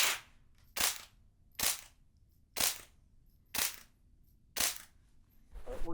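Five suppressed rimfire rifle shots with supersonic ammunition, sharp cracks spaced evenly about a second apart, each with a short decaying tail, loud against a quiet outdoor background.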